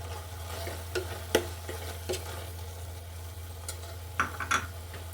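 Tomatoes cooked down with red chili powder and sambar powder sautéing in a pan, with a steady low hum underneath and scattered scrapes and clinks from stirring, a few sharper knocks near the end.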